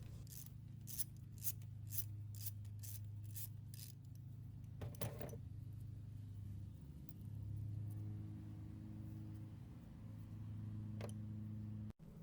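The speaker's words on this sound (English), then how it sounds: "let's start by loosening and removing this hold-down bolt using a 10mm socket" A 10mm socket ratchet loosens a hold-down bolt on a PCV hose in the engine bay of a 2.0t Cadillac ATS: a quick run of sharp, evenly spaced clicks, then a louder metallic clatter, over a low steady hum.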